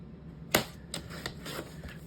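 Scissors cutting paper from a magazine, a sharp close snip followed by several softer, quicker cuts, quiet and with no talking.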